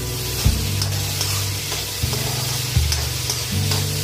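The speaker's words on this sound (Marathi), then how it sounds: "शिमला मिरची परतून झाली आहे" Capsicum sautéing in a pan for street-style pav bhaji, a steady close sizzle broken by several sharp scrapes and clanks of a stirring spoon against the pan, with no voices.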